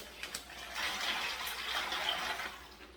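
Ice water poured from a container into a turkey brine, a steady splashing gush of liquid filling a vessel, close and moderately loud, continuing for a few seconds without talk.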